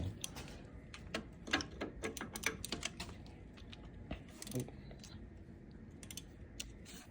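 A ratchet fitted with a half-inch socket, used while installing a Melling high-volume oil pump on a Dodge Charger R/T, gives off a scatter of sharp, light clicks in uneven bursts, close and fairly faint against a quiet garage background.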